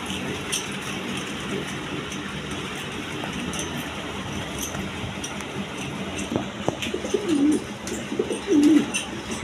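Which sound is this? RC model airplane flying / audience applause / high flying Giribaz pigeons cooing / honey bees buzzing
high flying Giribaz pigeons cooing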